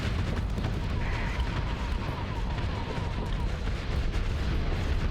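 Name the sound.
Onslaught ship guns firing in Starsector video game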